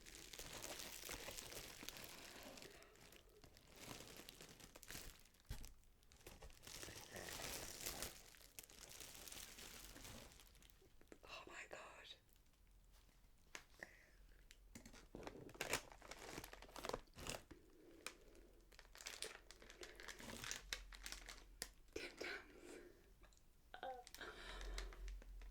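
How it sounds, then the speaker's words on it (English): Biscuit packaging being handled up close, giving continuous crisp crinkling and crackling with bursts of louder rustles and brief quieter gaps. "It's a nice crinkly packaging here."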